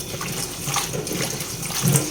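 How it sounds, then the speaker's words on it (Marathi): Fresh fenugreek leaves being rinsed in a vessel of water, a close, continuous sloshing and splashing of water that runs throughout. "2-3 पाण्याने धुवून घेऊया."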